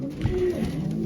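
A racing pigeon coos low and close, one short soft call inside a loft during checking before basketing for a youngbird training toss.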